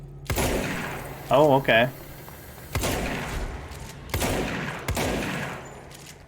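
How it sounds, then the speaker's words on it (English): Gunfire from shooting in the game Control, several sharp bursts spaced through the clip, loud and close, with a person's short spoken remark between the early shots. "I gotta shoot this?"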